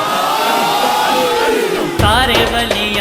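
A large crowd roars a shouted response to the Naara-e-Haidari chant, a loud, sustained mass of voices that swells suddenly after a sung lead line.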